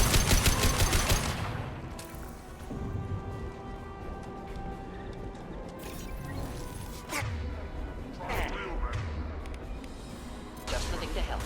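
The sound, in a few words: gunfire and exploding crates in Mass Effect video game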